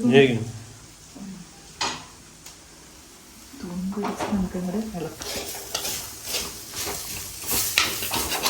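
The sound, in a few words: stirring ginger tamarind (inji puli) in a pan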